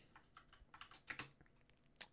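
Quiet, rapid tapping on a computer keyboard, a steady stream of light keystrokes with a couple of sharper clacks near the end, close and alone.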